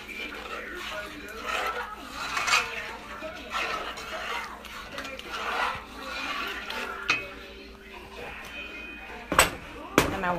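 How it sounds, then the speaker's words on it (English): Gravy mixed with chicken soup is stirred in a pot, giving soft scraping and sloshing with a few sharp clinks and knocks toward the end, while people talk in the background. "I'm going to stir that real good."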